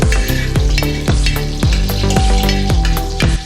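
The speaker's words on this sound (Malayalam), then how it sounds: "നമ്മുടെ വെളിച്ചെണ്ണ ഇവിടെ ചൂടായിട്ടുണ്ട്. നമുക്കിതിലേക്ക് ഒരു 10 ചെറിയുള്ളി ഇട്ട് കൊടുക്കാം." Shallots hit hot coconut oil in a pan for Kerala beef kaya peralan, sizzling loudly and continuously up close, with a regular thumping rhythm running underneath.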